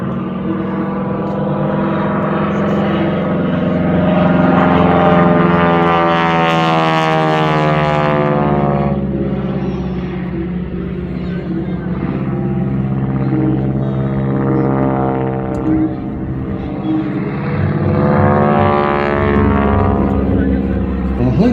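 A PT-17 biplane drones steadily in flight, a loud continuous engine roar with harmonic tones that swell and fade while wind rushes past; a voice speaks over it at times.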